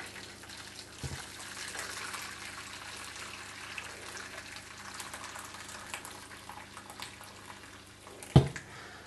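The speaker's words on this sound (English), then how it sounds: "Okay, I put the water in" Water being poured into a tray for cooking beer ham in the oven, a faint steady trickle and gush with a soft knock early on and a sharp clatter near the end.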